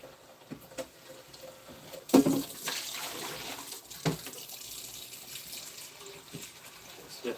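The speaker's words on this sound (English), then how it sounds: "I'm going to put some cold water in there." Cold water runs from a tap into a container, making a continuous soft splashing stream with a few louder gurgles and knocks partway through.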